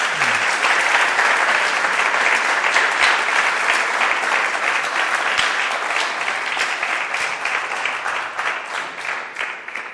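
Sustained, loud applause from a crowd, dense clapping that continues throughout and tapers slightly toward the end.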